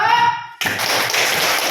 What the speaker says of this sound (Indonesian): Nah, kasih tepuk hebat dulu ya